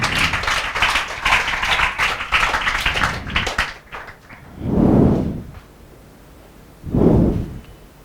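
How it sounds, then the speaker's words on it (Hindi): Classroom applause for student Mohini Jain: a few seconds of brisk, uneven clapping from a group, which stops abruptly and is followed by two dull, muffled knocks. "मोहिनी जैन के लिए जोरदार तालियां"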